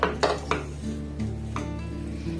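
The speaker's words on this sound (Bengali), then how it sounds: "এবার এই ময়দা সুজিটাকে একটু নাড়াচাড়া করে ভেজে নেব।" Flour and semolina being stirred and dry-fried in a pan, with a few utensil scrapes and clinks against the pan over a steady low background, no voices.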